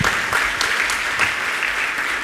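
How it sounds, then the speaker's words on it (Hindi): An audience at a Jain monk's religious discourse applauds loudly and steadily, a dense, continuous wash of clapping that holds for about two seconds with no speech over it. "तालियां तो बजाओ अच्छे से। एक बार जोरदार करतल ध्वनि।"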